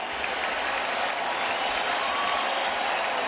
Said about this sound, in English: Crowd getting into it.